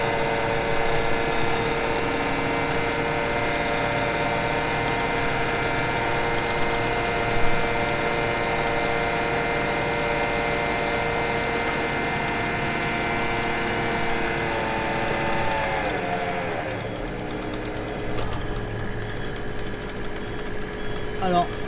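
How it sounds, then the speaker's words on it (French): A tractor fitted with a Deves AC 180 carrier idles and creeps forward on its own over gravel, a steady low engine drone with tonal whine that drops and shifts near the end, with a voice speaking over it. "j'ai mis le tracteur au neuf et c'est le tracteur qui avance tout seul"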